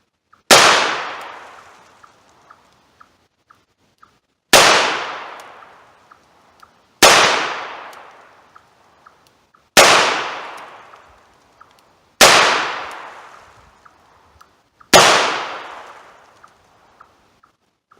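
A revolver fires .38 caliber wadcutter target rounds at six yards: six loud, sharp shots spaced about two and a half seconds apart, each followed by a short decaying echo, with faint clicks between them.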